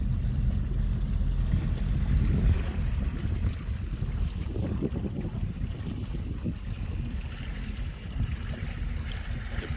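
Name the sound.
Stingray boat cruising on the Homosassa River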